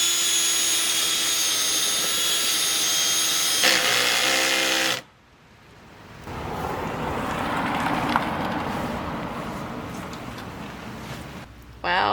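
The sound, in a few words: power drill drilling in van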